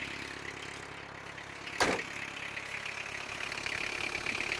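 A Toyota 2.2-litre diesel engine, just fitted with a new timing belt and water pump, runs with the throttle raised to warm up: a steady, even drone throughout, broken by one brief knock partway through.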